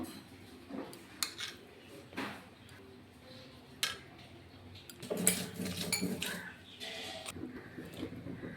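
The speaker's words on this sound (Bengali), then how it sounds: "এবার পেঁয়াজ রসুনটাকে বেটে নিব" Onion, garlic and prawns being ground on a grinding stone, giving quiet, uneven scraping and knocking strokes that become denser and rougher midway, close by, with no speech.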